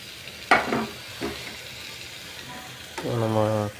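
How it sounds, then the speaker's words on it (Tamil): Cleaned lamb lung drops into a pan for a gravy, giving a few sharp clatters and a rising sizzle as it is stirred, with a brief voice-like tone near the end. "அதுக்கப்புறமா நம்ம க்ளீன் பண்ணி வச்சுருக்கிற நுரையீரல் எடுத்து இப்போ சேர்த்துப்போம்."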